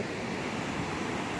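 A soft, continuous wash of sea surf, waves rolling steadily onto the shore at a distance, with a faint breezy hiss and no talking.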